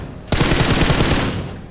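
Rapid automatic gunfire in PUBG Mobile bursts in after a short quiet moment, a dense, loud rattle of shots continuing to the end.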